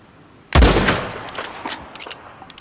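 A single loud gunshot in the video game Red Dead Redemption 2, a sharp close crack followed by a rolling, echoing tail that fades out.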